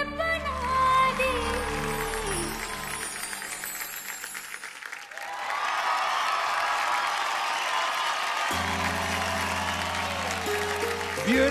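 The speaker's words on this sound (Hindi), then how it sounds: "जोरदार तालियां हो जाए मानसी के लिए" A studio audience gives loud, sustained applause and cheering after a dance performance on a TV dance show, with music playing at the start and returning near the end.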